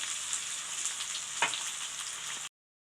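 Chopped onions and peeled garlic cloves sautéing in oil, giving a continuous close sizzle with one brief stir knock before it cuts off.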